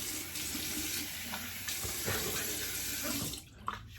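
Hot water runs steadily from a bathroom sink tap in a broad, continuous rush at close range, briefly breaking off near the end with a few small splashes.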